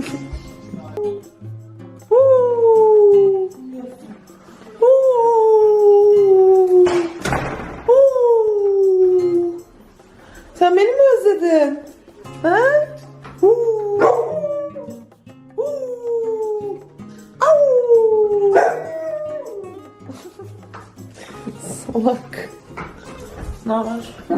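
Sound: dogs howling and barking

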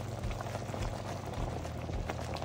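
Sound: hot stock simmering in butter and flour mixture

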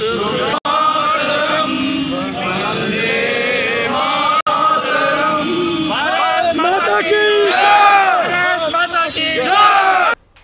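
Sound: protesters shouting slogans outside a rally venue

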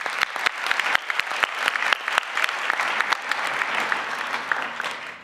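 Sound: applause for JRF scholars at awards dinner

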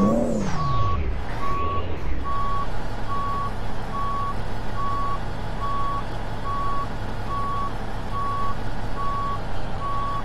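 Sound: tractor trailer truck reversing beeps in a video game

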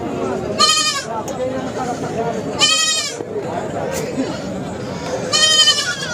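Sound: goat and sheep kids bleating at livestock market

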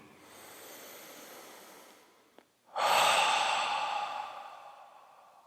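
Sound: breathing in through the nose, out through the mouth

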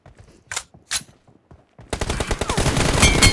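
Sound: gunfire in a mobile shooter video game

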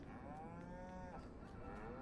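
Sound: cows mooing in Farming Simulator 19 video game

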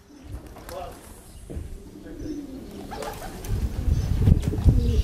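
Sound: racing pigeons arriving at the loft

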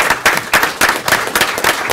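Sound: audience applause at council meeting

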